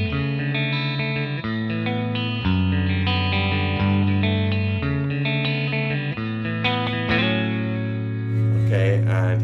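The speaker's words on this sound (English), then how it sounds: "now I'm going to play the neck and the bridge pickup together" A Vintage V6M24 electric guitar plays a melodic line on neck and bridge pickups together, with a full, effect-laden tone, notes ringing and sustaining over a steady low bass pattern.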